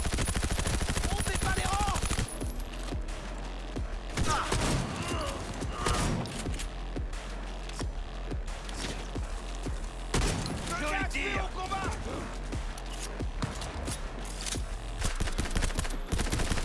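Rapid automatic gunfire from akimbo weapons in the Cyberpunk video game, loud and continuous, with bursts of shots and impacts under excited male speech.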